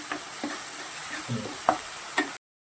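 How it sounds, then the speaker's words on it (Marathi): Cluster bean curry filling with grated fresh coconut, turmeric, homemade masala and coriander powder being sautéed in a pan, with soft sizzling and several distinct scraping stirs of a spoon, close and moderately quiet, no talking. "हे पूर्ण सारण आपल्याला परतून घ्यायचं आहे"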